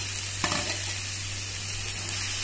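Corn and capsicum frying over high flame in a pan, a constant bright sizzle over a low hum, with one brief stir or clatter near the start and no talk.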